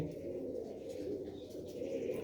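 Pigeons kept in a flock coo softly in a steady low murmur. The sound is faint and continuous, with no talk over it.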